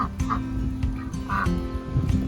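Several short nasal duck quacks ring out over steady wind noise and low rumble on a homestead, spaced irregularly across a couple of seconds.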